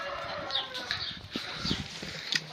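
Chickens and roosters of a Markus Lutheimer cross in a coop, steady close clucking and chattering with occasional squawks and a brief flutter of wings.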